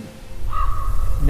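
A raven gives a single harsh caw close by, with a rough rising-then-flat call lasting under a second, heard over a low rumbling background.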